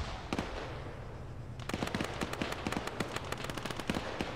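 Heavy gunfire in a military video game, rapid cracking bursts of shots ringing out continuously over a steady battlefield rumble, growing denser after a brief lull.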